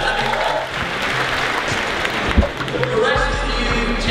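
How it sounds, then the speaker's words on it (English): Freshers at a university welcome address break into applause and cheers, a dense, steady wash of clapping from a large hall audience lasting several seconds, with scattered voices mixed in. "cheers, clap your hands."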